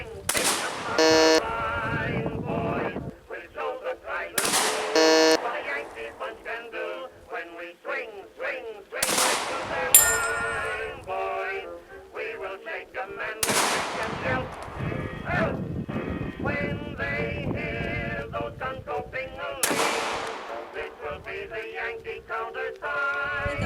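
Loud gunshots ring out at a shooting session aimed at targets thrown into the air, the sharp cracks spaced a few seconds apart amid crackling and background noise, with voices heard in between.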